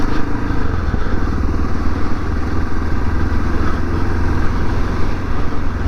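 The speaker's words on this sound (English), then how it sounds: "we're going for just a quick ride on the bike" A motorcycle ridden on a Friday night on the way to get petrol: a loud, continuous engine drone heard close up, steady without breaks.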